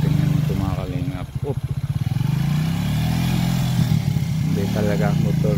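A motorcycle engine runs close by on a narrow road, with a steady mid-pitched drone and a brief revving surge. Someone talks over it throughout.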